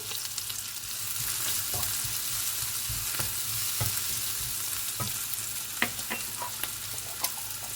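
Onions, ginger and garlic frying in a pan for a Malagasy rice dish, a steady close sizzle with light stirring scrapes and occasional clicks of the utensil, no voices.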